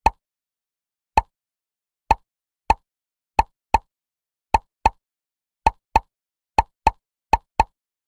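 Bubbles pop in a kids' number-learning game, each one a short, crisp plop, thirteen in all, coming singly and in quick pairs at uneven intervals against total silence between them.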